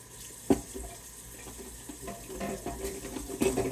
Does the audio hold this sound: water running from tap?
yes